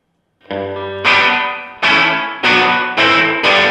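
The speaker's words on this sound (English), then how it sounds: "This is the reverb. So let me dial this up." Guitar chords struck about five times, each hit ringing out with a washy reverb tail and a slightly distorted edge, loud and close.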